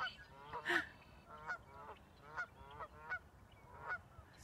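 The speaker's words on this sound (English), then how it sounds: "Hear the geese, they're making lots of noise." Geese honk repeatedly, loud nasal calls in irregular bursts, some nearer and some farther off, with a quieter outdoor background between them.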